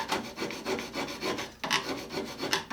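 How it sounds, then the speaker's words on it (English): A metal file scraped with a piece of copper, rhythmic rasping back-and-forth strokes, close and steady, about six passes with no talk. "As I was standing here scraping on this file"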